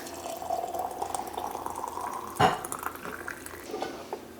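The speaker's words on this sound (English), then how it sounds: "we're gonna top these off with some of this water, leave an inch of headspace" Water poured from a container into glass canning jars of cranberry sauce during home canning, a steady trickling stream with a brief clink of glass and faint kitchen clatter in the background.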